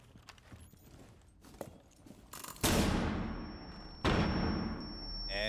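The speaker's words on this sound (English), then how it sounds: "And there's the flashbang being used" A flashbang grenade goes off in Rainbow Six Siege during a collegiate esports match, giving two loud, sudden bursts that each fade into a long ringing tone, after a stretch of quieter gameplay noise.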